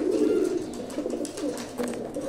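A flock of same-pattern domestic pigeons coos in a continuous, overlapping murmur close by, low and steady, with no talking.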